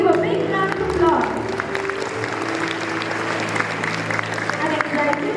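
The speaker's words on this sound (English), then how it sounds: "Let's give a big round of applause." Audience at a school club inauguration ceremony at Christus Rex Senior Secondary School claps in a steady, moderate round of applause that holds for several seconds, with a low hum underneath.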